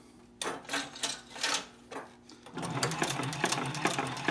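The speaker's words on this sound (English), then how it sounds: "once you sew for a couple of stitches, you're okay" A sewing machine stitches fabric in a few short separate bursts, then settles into a steady, fast mechanical run; close and fairly quiet, with no talk.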